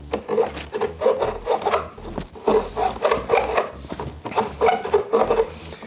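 A plumber bevels the outside edge of a pipe end before soldering, a steady rhythmic rasping and scraping of file or reamer against metal, repeated in close back-and-forth strokes throughout.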